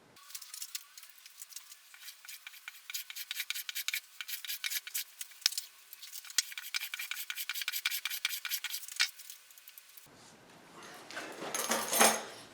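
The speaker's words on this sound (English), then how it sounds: "I'm going to take some of the bulk off with a very," A very finely set hand plane shaving the wood of a guitar fretboard during an SG junior style build, making repeated rhythmic rasping strokes at close range, followed by a brief softer scraping sound.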